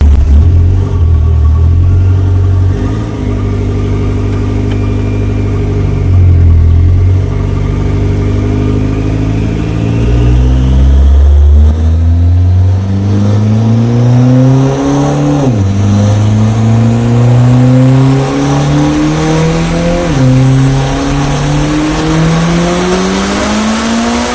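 Mitsubishi 1G DSM engine on a dyno at 40 psi boost, very loud and close: it drones low, then climbs through repeated rising revs in long pulls, each sweeping higher before dropping back.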